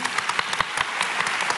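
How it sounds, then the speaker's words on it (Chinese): An audience at an award ceremony applauds for an animation team, a steady wash of many hands clapping with sharper individual claps, moderately loud and without speech. "我们是不是给他一个鼓掌好不好"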